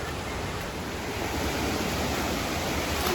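A small waterfall spills into a stream near a Karen village, a steady broadband rush of water close by with no voices, holding constant and slightly swelling toward the end.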